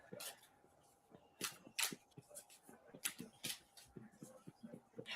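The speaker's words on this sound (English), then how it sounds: "When I shuffle cards" Playing cards being shuffled by hand, a run of soft, quick riffles and flicks in irregular bursts, faint and close, with no talk over them.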